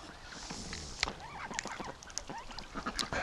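Ducks kept in a bathtub set-up call out in a busy cluster of honking, quacking notes, several birds overlapping close by with no talk.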